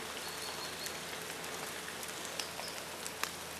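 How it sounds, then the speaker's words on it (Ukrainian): Rain easing off after a thunderstorm at Zvenyhorodka by the Tikych river: a steady soft patter of drops with occasional sharper splashes, fairly even and unaccompanied by voices. "Так що поки дощ перестає вже, стає менший і менший."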